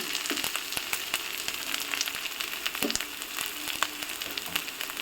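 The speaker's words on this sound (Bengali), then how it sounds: "এবার মশলাগুলোকে একটু ভালো মতো কষিয়ে নেব" Turmeric and coriander powder fry in hot oil in a pan for a tengra fish curry, giving a steady close sizzle with small crackles throughout.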